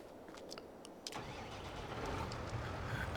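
Tractor engine cranking over and firing up in the farming game Farming Simulator 22, a brief starter whir followed by a steady mid-pitched idle that grows slightly louder, with no talk.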